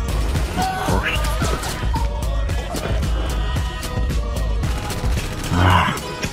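Rapid, dense gunfire exchange in a shooter video game, with overlapping bursts and single shots that sound both near and distant, continuing steadily throughout with a louder cluster of impacts near the end.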